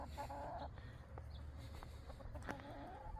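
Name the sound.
chickens clucking in a farmyard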